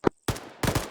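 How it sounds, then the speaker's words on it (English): Shots are fired at a fortification in quick succession: one sharp crack, a pause, then a louder cluster of overlapping bangs, close and echoing, with no talking. "pick a fortification, and on my mark, start shooting at it."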